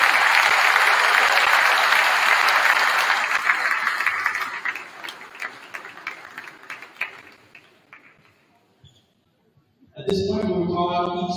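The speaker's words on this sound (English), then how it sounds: "Let's have a big round of applause for Mrs. O'Brien." An audience in a high school gym claps loudly for several seconds at a senior night event. The applause thins out into scattered claps and falls to near silence before someone starts speaking.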